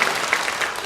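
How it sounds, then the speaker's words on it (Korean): A burst of congregation applause at a Sunday church service, many hands clapping steadily and fairly loud throughout. "하나님께 영광의 박수 한번 하십시다"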